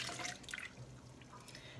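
Water is poured or run into drained cashews in a blender jar for vegan cashew cheese, making a soft, close trickling and splashing that stays quiet, with no talking.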